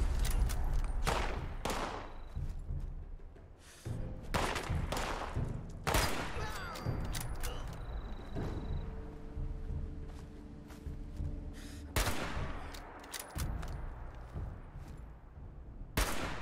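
Rapid bursts of Fallout 76 gunfire and explosions crackle through the whole stretch, with a player's voice reacting underneath.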